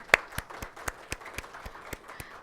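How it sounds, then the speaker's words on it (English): Sparse, rhythmic clapping from a small audience, about ten evenly spaced claps, fairly faint. "And a round of applause for Alan, please."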